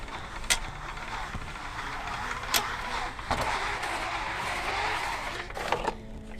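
Kammok Crosswing awning fabric winding back onto a car under spring tension, a steady ratcheting whir with a few sharp clicks and clunks from the mechanism, close by and fairly loud throughout.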